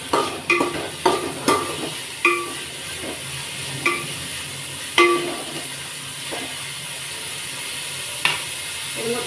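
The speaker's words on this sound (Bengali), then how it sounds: "এবার দিয়ে দেবো ক্যাপসিকাম কুচি কাঁচা লঙ্কা কুচি এগুলো সব একটু ভালো করে ভেজে নেব" Chopped capsicum and green chillies fry in a pan with a low steady sizzle, broken by sharp metallic spatula clanks at irregular intervals, close and without talk.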